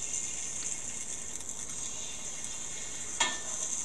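Three cracked eggs frying in a pan, a steady bright hiss of sizzling oil at moderate level, with one brief louder crackle near the end.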